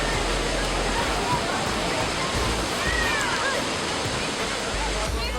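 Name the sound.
Niagara Horseshoe Falls waterfall roaring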